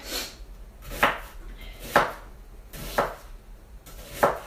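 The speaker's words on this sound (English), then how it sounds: "I'm going to go ahead and chop the rest of that onion" A knife chops an onion on a cutting board for a quinoa dish, five crisp, evenly spaced knocks about a second apart, close and clear with no talk.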